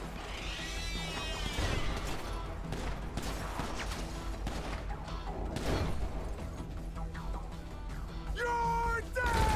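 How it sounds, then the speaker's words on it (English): Gunfire during a GTA 5 Online heist mission: a dense, continuous stretch of shots and crashes mixed with game noise, with players talking over it throughout. "We're receiving fire!"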